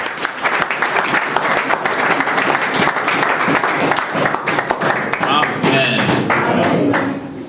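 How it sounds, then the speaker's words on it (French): A church congregation applauds and cheers in worship, with loud, continuous clapping and crowd voices filling the space throughout. "Acclamons pour notre Dieu."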